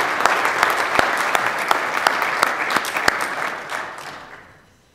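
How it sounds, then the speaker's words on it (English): A graduation ceremony audience applauds undergraduate TAs and peer tutors, with sustained mid-level clapping and a few sharp individual claps standing out, then fading away over the last second. "Can we just give all of them a round of applause?"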